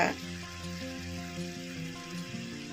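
Masala with turmeric sizzles softly in oil in a pan, a faint continuous frying hiss heard close, with a low tonal hum underneath and no clear voices.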